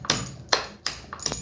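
Spices pounded by hand during home cooking, four sharp, ringing strikes spaced about half a second apart, close and fairly loud, with no talking.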